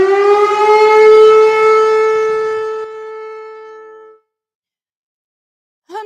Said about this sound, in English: this is what I call my Sarah Boone siren.